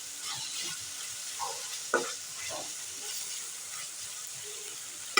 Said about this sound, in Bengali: তেলের মধ্যে ভালো করে ভেজে নিতে হবে।